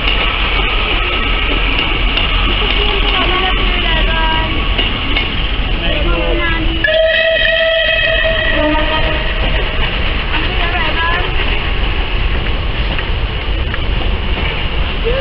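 A train rumbles past continuously at Cardiff Central station with rolling rail noise, and a sustained horn-like tone sounds midway; voices can be heard under it.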